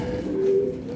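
A pigeon gives a single short, low coo inside a large pigeon cage, close and clear over a soft background.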